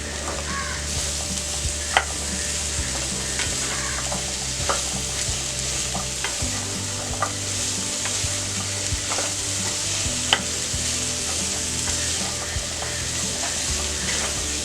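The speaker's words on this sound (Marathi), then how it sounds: "भोपळा घालून घेऊया।" Red pumpkin pieces stir-fried over full flame in a hot tempering with asafoetida, a steady loud sizzle with repeated scraping and clinking of a spatula against the pan, close up and without talk.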